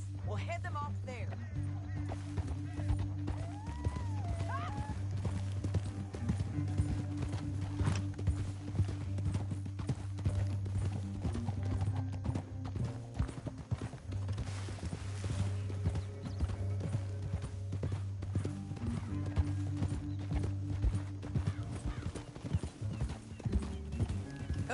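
Horse hooves clip-clop in a steady rhythm through a Red Dead Redemption 2 riding scene, with an occasional whinny, running beneath a continuous music score and spoken dialogue.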